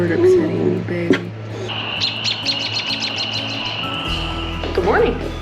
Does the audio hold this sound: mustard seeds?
no